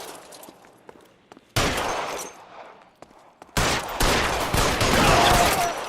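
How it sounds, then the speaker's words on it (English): Guns firing in the video game LA Noire: a quiet stretch of scattered single shots gives way to two loud bursts of sustained, rapid gunfire, the second running on to the end. "Shooting the guns looked like this half the time."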